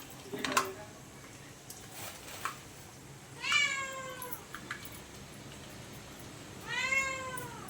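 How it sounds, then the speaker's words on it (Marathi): A cat in a home kitchen lets out three drawn-out, rising-and-falling meows spaced a few seconds apart, moderately loud against quiet room noise while cooking goes on. "मांजर बघा कसं ओरडतंय आमच्या मावशीचं"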